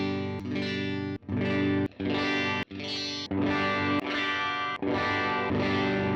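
A single electric guitar strums a series of chords through different pickup combinations, each separated by a brief cut, with the tone shifting between bright and fuller voicings.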